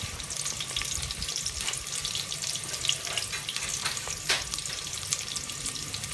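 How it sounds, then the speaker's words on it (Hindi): Onions frying in a pan for an aloo chana curry, a steady close sizzle with faint scraping and clinks throughout, no voices. "प्याज फ्राई करके आप लोगों को दिखाते हैं।"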